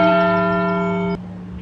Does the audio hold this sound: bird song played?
no